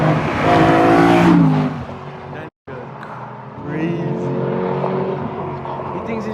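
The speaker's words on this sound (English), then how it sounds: "Mud, is that what you call a flyby?" A BMW E92 M3 with a new exhaust roars past loudly with rising revs, cuts out briefly, then another engine drones on with a voice talking over it.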